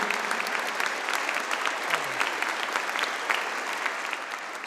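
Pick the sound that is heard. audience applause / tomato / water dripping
audience applause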